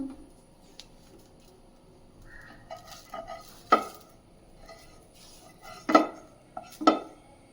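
A bread and cheese omelet is moved from the pan onto a plate, with quiet scraping and a few sharp metallic clinks of the utensil on the pan and plate against a near-silent kitchen.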